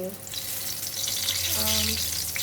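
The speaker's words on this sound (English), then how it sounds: "Fry for about 3 minutes each side, just for the brinjal to cook." Brinjal (eggplant) pieces fry in oil in a pan, giving a steady, loud hiss that fills the whole moment. A low hum and a brief tonal whine sit underneath it.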